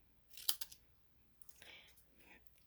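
Scissors snip through cardstock during a paper-crafting session, giving one sharp crisp cut followed by a softer slicing rustle, quiet and close with no talk.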